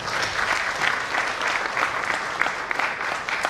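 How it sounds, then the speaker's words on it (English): Audience at the IRMA Alumni Association CEO Conclave breaks into steady, moderately loud applause that holds evenly for a few seconds with no talk over it. "And a round of applause to all of them."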